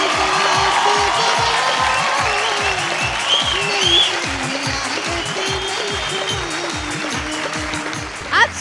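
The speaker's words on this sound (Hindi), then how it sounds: "जोरदार ताली।" A studio audience at a Bhojpuri singing talent show breaks into loud, sustained applause and cheering for a singer, a dense roar of clapping with a steady rhythmic beat underneath.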